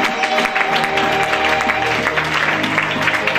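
A church congregation at a worship service claps and cheers steadily, a dense, loud wash of applause. Music plays underneath and voices rise through the crowd noise.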